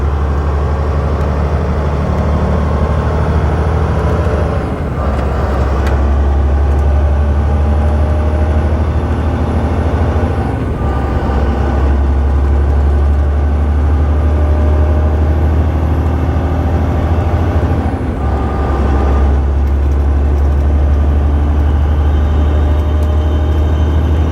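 A 2007 Volvo 880 truck with an 18-speed Eaton Fuller UltraShift transmission drones loudly from inside the cab while the automated gearbox shifts on its own, the engine note dipping and recovering about three times.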